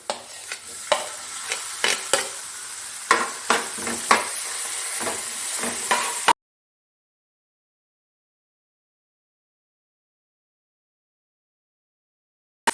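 Onion and tomato sauté in a pan for egg bhurji, with a continuous sizzle and a series of sharp spatula scrapes and taps for about six seconds, followed by abrupt silence.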